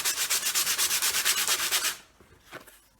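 Coarse 60-grit sandpaper rubs by hand over wood in a fast, even series of about a dozen rasping back-and-forth strokes, close and crisp, then stops, leaving a near-silent tail with one faint scrape.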